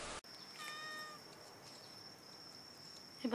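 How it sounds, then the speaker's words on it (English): A small cat meows a few times close by, thin high cries early on over a quiet room, followed by faint shuffling. "I'm being stalked by a small cat."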